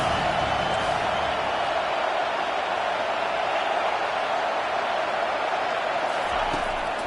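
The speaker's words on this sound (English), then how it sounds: "Decibels rising as the crowd gets behind this defense on third down." A stadium crowd at a college football game roars steadily in support of the defense on third down, a dense, continuous wash of cheering at constant loudness throughout.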